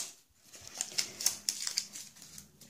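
A Mentos Cola candy package is torn open, giving quiet crinkly plastic rustles and small sharp crackles in an irregular burst lasting a couple of seconds.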